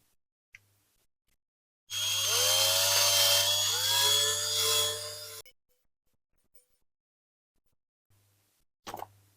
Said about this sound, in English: I think a bit more drilling to get that out.